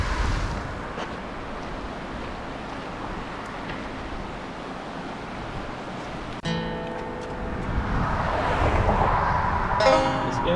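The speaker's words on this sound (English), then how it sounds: "Enjoy the sound of the Chattooga River." Chattooga River rushes in a continuous broad wash beside a trail in Chattahoochee National Forest, with wind buffeting the microphone and a passing car joining in toward the end.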